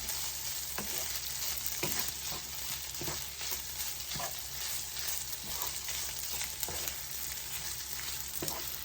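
American fried rice is stir-fried in a pan, giving a steady close sizzle with repeated scraping strokes of a spatula about once a second, no voices.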